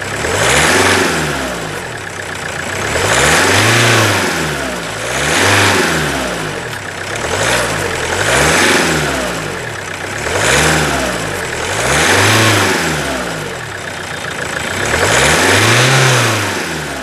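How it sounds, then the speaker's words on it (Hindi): Renault Duster engine idling and revving roughly with a misfire, surging in a steady uneven pulse every couple of seconds with a loud rattling, knocking clatter underneath, close by and with no voices. "गाड़ी स्टार्ट हो गई, साउंड बुरा है, खड़खड़ खड़खड़ की आ रही है साउंड"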